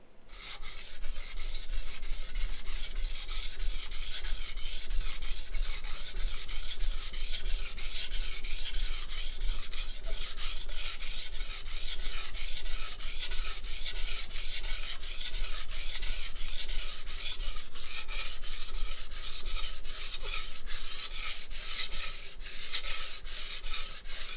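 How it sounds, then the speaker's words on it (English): A cleaver is sharpened on a sharpening stone, its blade rubbed back and forth in a steady, continuous gritty scraping that runs close and loud the whole time with no talking. "I like to move my knife around the stone if possible, or as much as possible"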